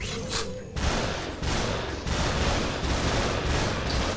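Rapid gunfire in the VR video game SUPERHOT VR, dense overlapping shots in a loud continuous barrage with no pauses.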